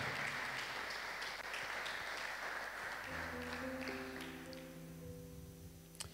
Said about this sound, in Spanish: Le damos un aplauso al Señor Jesucristo, ¿verdad?